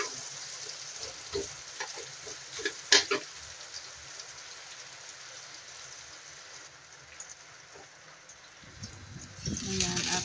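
Onion and ginger frying in a pan while being stirred, a steady soft sizzle with scattered scraping clicks of the utensil and a louder stir toward the end; no talk.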